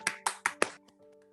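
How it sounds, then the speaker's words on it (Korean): A few sharp claps from a youth group giving thanks at a church youth service held over Zoom, four distinct hits in quick succession that fade into a faint sustained tone. "우리와 함께 하신 하나님께 다시 한번 감사의 박수 올려드리겠습니다"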